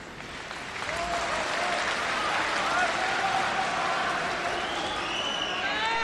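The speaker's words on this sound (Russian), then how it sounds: "мы должны соблюдать тишину и не хлопать, как просил нас об этом председательствующий в начале" Steady, dense applause from a large audience at a public religious debate, filling the room continuously after a brief softer start, with faint voices underneath.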